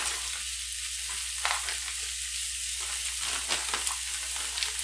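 Corn sizzles softly in a hot pan for a shrimp and corn dish, with intermittent scraping stirs breaking through a steady, faint frying hiss.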